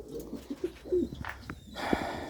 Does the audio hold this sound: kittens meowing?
no